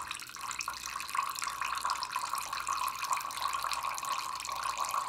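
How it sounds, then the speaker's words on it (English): Water draining steadily from a mini beauty sponge washing machine into a cup, a continuous trickling and splashing stream, close and moderately loud with no pause. "So I'm going to completely drain this, and I'm dumping this back into the same cup of water"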